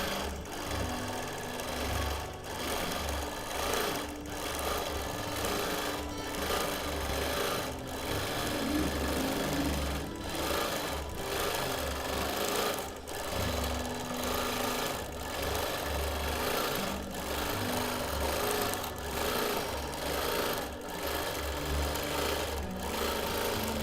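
A sewing machine stitches a pieced quilt backing, its motor humming steadily and the needle pulsing in a fast, even rhythm for the whole stretch, close and alone without talk.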